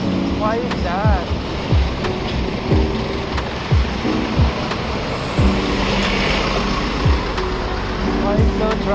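Busy road traffic with cars and trucks passing close by, a continuous roar of engines and tyres with repeated vehicle pass-bys, heard from a moving motorbike, with someone talking over it.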